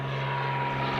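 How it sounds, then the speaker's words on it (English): A propeller airplane passes overhead as a steady, loud droning hum that holds a constant tone throughout the short stretch, with no talk over it. "Just an airplane."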